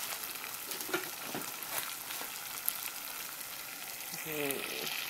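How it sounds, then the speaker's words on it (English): Rice sizzles and fries in sausage oil for Spanish-style rice with sausages, a continuous close crackling hiss broken by soft stirring scrapes, with a brief voice fragment near the end. "when I add my rice, I'm going to move it around in the sausage so that the kernels can each get some oil"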